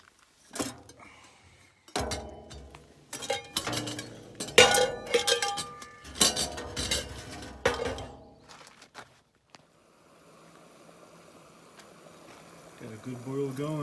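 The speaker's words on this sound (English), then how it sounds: "Got a good boil going." A pot of water comes to a rolling boil on a backcountry camp stove in the Colorado mountains, with metal clinks and clatter of cookware and people talking up front, then a steady low bubbling hiss carrying on alone.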